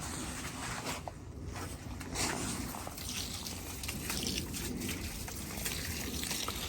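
Water poured and trickling into a stone and sand mix on a building job, a steady wet splashing and dribbling that carries on throughout at moderate level.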